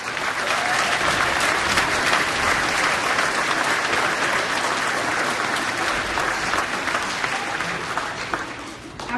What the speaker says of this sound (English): please join me in a round of applause for those who help us make our band concerts here at FMS a success